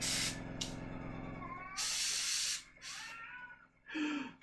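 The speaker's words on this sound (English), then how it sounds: "I can hear my cat in the background." A cat meows in the background during a miniature painting session, with faint plaintive cries mixed among bursts of hissing spray from an airbrush or spray can.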